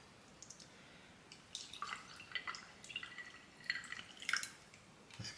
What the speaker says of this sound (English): And then pour in a cold brew.